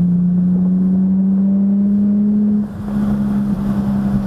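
A Toyota GT86 engine with a fully replaced exhaust line idles with a deep, steady drone, then the tone shifts slightly as it keeps running; a throaty rumble close by, no talking.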